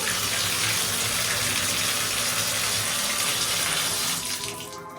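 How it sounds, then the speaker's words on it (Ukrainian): A tap in a Canadian apartment runs at full, unadjustable flow, a loud, steady splashing rush close by that eases slightly near the end, with no talking. "скільки цієї води буде виливатися з крану, ніяк не відрегулюємо. Тож давайте перевіримо, я просто вмикаю."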